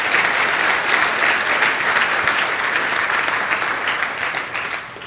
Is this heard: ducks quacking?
no